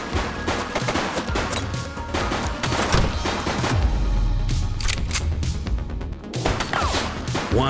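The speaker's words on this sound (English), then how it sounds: "He's shooting!" Rapid bursts of gunfire from a police shootout in the video game The Precinct, loud and dense, crackling almost without pause through the whole stretch, with no talk over it.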